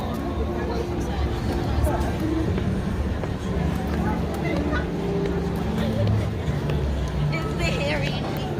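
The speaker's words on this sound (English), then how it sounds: "Oh my goodness, I can see another crowd ahead." Crowd of people at Six Flags Great Adventure during Fright Fest, a constant murmur of many voices and general outdoor commotion, with nearby talking over the steady babble.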